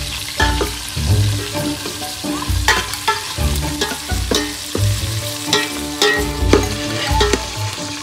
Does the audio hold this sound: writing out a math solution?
no